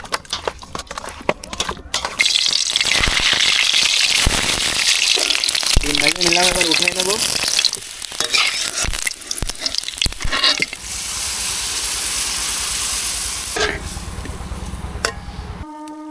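Marinated chicken pieces drop into a hot pan for chicken roast and burst into a loud, sustained frying hiss, with clattering at the start and a voice speaking over the sizzle.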